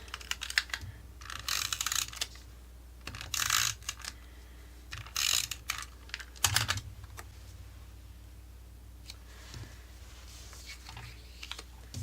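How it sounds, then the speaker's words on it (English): Scrapbook paper being trimmed to size for a craft page, a run of short bursts of cutting and sliding with soft mechanical clicks and pauses between them, close and fairly quiet, with no one talking. "now I'm going to trim it so it's got about an even amount of border all the way around"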